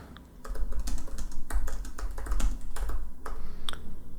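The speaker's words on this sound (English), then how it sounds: "So I type the sentence" Steady, fast typing on a computer keyboard at a desk while debugging Python code, a dense run of close, crisp key clicks with a few louder strokes and no voices.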